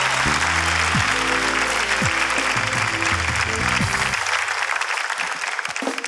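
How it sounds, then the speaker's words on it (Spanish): A studio audience claps loudly and continuously on a Spanish-language comedy show, a dense wash of applause with a low hum under it that thins slightly toward the end. "pido un fuerte aplauso para Las Mujeres También Lloran"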